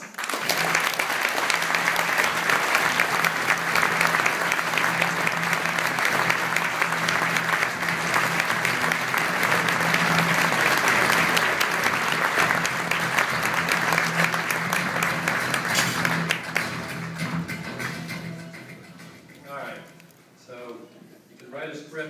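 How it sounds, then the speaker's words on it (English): An award ceremony audience gives a long, loud burst of sustained applause for the Global Communicator of the Year Award, dense clapping that thins out near the end as scattered claps and talk take over. "So I would like you to give a rousing round of applause for the Global Communicator of the Year Award"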